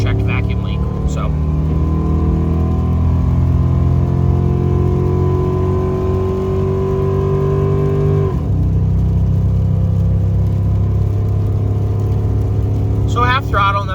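Steady drone of a pickup truck's LS engine with an unchecked vacuum leak at half throttle, pitch holding then dropping slightly partway through, with brief speech near the end.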